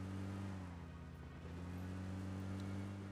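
A car drives through the battle zone in PUBG Mobile, its engine a steady, continuous drone with a strong low hum that holds without letup, moderately loud and alone without speech.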